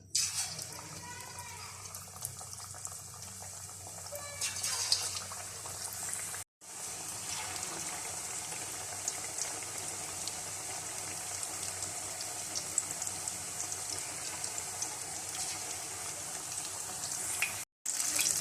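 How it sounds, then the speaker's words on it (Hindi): Chicken pakoras frying in hot oil, a steady broadband sizzle that runs almost the whole time with two brief dropouts, close and fairly loud. Faint talk appears near the start. "अब मैं पकोड़े तलने लगी हूँ और ऑयल गरम हो चुका है।"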